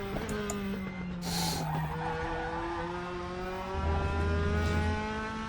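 In the RaceRoom racing game at Interlagos, tires squeal and skid as the front wheels lock under braking over a steady racing-car engine drone, the engine note shifting as the car brakes and accelerates.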